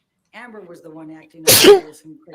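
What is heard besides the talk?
sneeze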